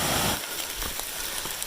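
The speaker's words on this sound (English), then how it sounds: "Just started raining." Rain starts falling on the Appalachian Trail, a soft steady hiss of drops with a few faint patters and no voices.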